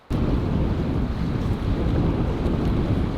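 Strong southwest wind in remote Canada buffets the microphone with a constant roaring rumble, starting abruptly and staying loud without a break.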